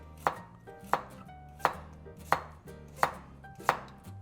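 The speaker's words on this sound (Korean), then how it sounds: "당근을 이렇게 썰어서 이렇게 채를 쳐줍니다" A carrot is julienned on a slicer, producing six crisp, evenly spaced strokes, each a sharp close rasp followed by a brief pause, with no talking.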